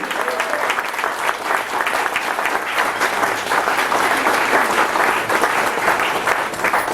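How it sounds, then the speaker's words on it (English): Sustained applause from a large audience, dense clapping that continues steadily throughout without a break. "Give a big round of applause."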